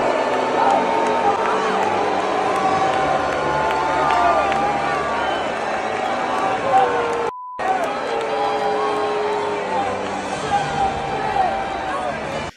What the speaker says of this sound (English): all these folks at this Commanders game booed his ass